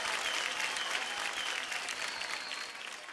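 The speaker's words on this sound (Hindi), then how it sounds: "एक बार जोरदार तालियां हो जाए" A studio audience at a televised kids' dance competition applauds in a sustained burst of clapping that stays full, then slowly thins out toward the end.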